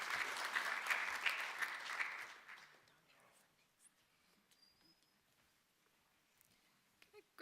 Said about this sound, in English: Let's give a hand of applause as she comes.